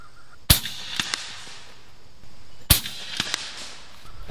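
Two sharp shots from a Gauntlet 30 air rifle firing Griffin pellets outdoors, each a crisp crack followed by quieter ticks and a short echo, about two seconds apart with no talk.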